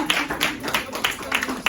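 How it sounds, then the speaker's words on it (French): An audience claps for a prize winner at a book launch evening, a patchy, moderately close burst of handclaps with uneven rhythm and no voices over it. "Bravo, on applaudit pour Sandrine."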